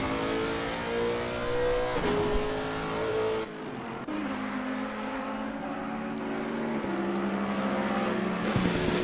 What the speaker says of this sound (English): the number 28 Lexus, driven by Nicolo, fighting it out between himself and the 909 Mercedes AMG GT3 there